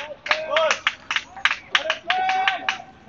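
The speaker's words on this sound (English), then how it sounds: "there's clapping" Scattered clapping from spectators at a women's lacrosse semifinal or final on an outdoor field, a short patter of handclaps in uneven bursts heard under a commentator's voice.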